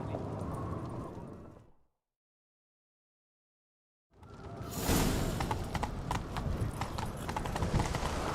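Horse hooves gallop in The Witcher video game, a rapid clip-clop rhythm that cuts out into a couple of seconds of total silence, then returns louder and close, with whooshing movement mixed in.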